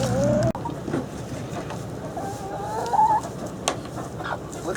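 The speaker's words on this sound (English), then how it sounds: "There's the sussies, and there is the barred rock hen." Sussex and barred rock hens cluck and murmur nearby in a backyard flock, with soft repeated clucks, a few higher calls and occasional rustling, moderately loud with no talking.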